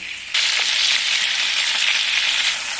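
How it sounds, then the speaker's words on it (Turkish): Potatoes frying in a pan sizzle steadily and loudly as they are stirred, a close, continuous hiss with faint scraping and no talking. "Şimdi patateslerimi karıştırmaya geçiyorum"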